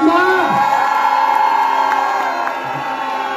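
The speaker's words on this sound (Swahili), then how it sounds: "Wapi makofi ya Mama Simba?" A large outdoor political rally crowd in Thika Town roars and whoops for the local MP, Mama Simba, in a loud sustained wave of cheering voices that slowly tapers.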